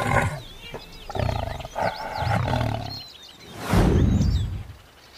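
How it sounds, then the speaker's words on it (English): A tiger roaring: several deep, rough growling roars in bursts, building to one loud sustained roar toward the end, close and powerful, with faint bird chirps in the background. "Tiger."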